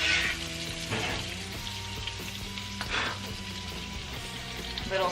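Scallops frying in butter in a hot pan, a steady close sizzle and crackle with spitting pops, occasional louder bursts as the butter is spooned over.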